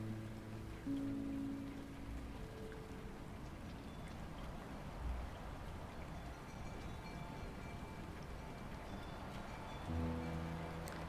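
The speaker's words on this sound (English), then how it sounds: "just standing out here like a dummy in the cold rain" Steady rain falls in the video game Rainswept, a soft continuous patter and wash with faint low tones and a couple of muffled thumps, no voices over it.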